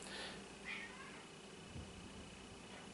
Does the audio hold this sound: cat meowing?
yes